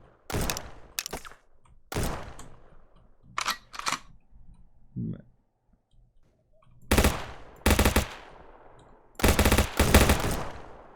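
Gunfire in the Streamer Life Simulator video game: several separate bursts of sharp, loud shots, single and in rapid clusters, spread across the clip with short pauses between them and no talking.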